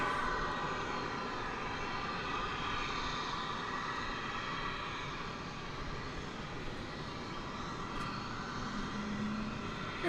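A Frontier Airlines jet in green livery taxies or rolls at DFW Airport, its engine a steady, broad roar holding at moderate distance for about ten seconds with no voices.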